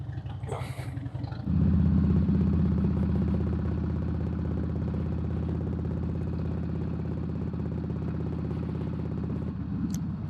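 A Harley-Davidson Dyna Low Rider motorcycle starts after a brief quiet moment, then runs with a loud, steady, deep engine rumble that carries through to the end, heard close up.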